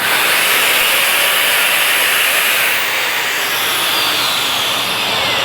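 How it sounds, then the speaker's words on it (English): A Dyson DC65 Animal upright vacuum cleaner runs steadily and loudly, its broadband whooshing roar holding constant throughout with no talking. "let's go ahead and for the first time turn on the vacuum"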